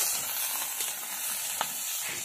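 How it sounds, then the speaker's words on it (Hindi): Fish frying in hot oil gives a steady, close, bright sizzle, bubbling and crackling evenly throughout with small pops, and no talk. "तेल तेल गर्म है। बीच में इसको डाल देता हूँ"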